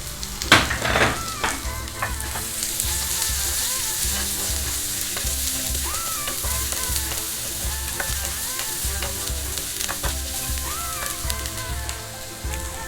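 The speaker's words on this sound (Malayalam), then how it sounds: "ഒരു 2-3 അല്ലി വെളുത്തുള്ളി നീളത്തിൽ അരിഞ്ഞത്, ഒരു 5-6 ചെറിയുള്ളി നീളത്തിൽ അരിഞ്ഞത് ഇത് ചേർത്ത് കൊടുത്ത് ചെറുതായിട്ടൊന്ന് വഴറ്റുക" Garlic and small shallots sautéing in a pan for Bellary chicken, a steady close sizzle with repeated scraping and stirring strokes of a utensil running throughout, with no talk over it.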